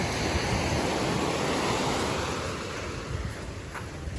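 Ocean surf rolling onto a deserted seashore under a darkening, rainy sky, a continuous loud roar of breaking waves with wind buffeting the microphone and no voices.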